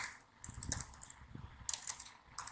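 Computer keyboard keys clatter in short bursts of quick, light clicks during an HTML lesson, with a firmer Enter key press among them, close and fairly quiet with no voices.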